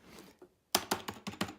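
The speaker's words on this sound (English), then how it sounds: "I love these old Mac keyboards." Keys clack on an old Apple Mac ADB keyboard in excellent condition: a few faint taps, then a quick burst of five or six crisp, close keystrokes.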